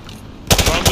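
A burst of rapid automatic gunfire from a rifle fired from the hip in Call of Duty Modern Warfare 2, loud and close, starting abruptly after a quiet half-second of background ambience.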